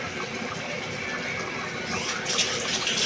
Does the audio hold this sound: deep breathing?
no